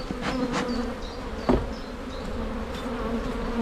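Honeybees hum steadily around an open hive during a spring inspection, a dense continuous drone close by with one brief louder knock partway through and no voices.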